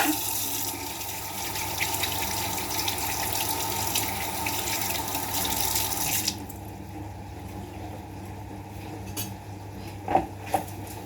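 Water pours from a kitchen tap while cooking, a steady close rush for about six seconds before it shuts off. Quiet clinks of pots and utensils follow, with a couple of louder knocks near the end.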